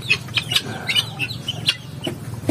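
Native chickens scratching and dust bathing in ash on a small farm, with soft scratching, rustling and scattered clucks and chirps at close range.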